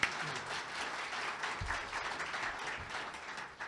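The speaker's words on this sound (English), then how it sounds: "Can we give them a round of applause?" An audience at a Colorado State Treasurer candidate forum applauds, steady dense clapping from a crowd that holds for several seconds, moderately distant, with a few low thumps mixed in.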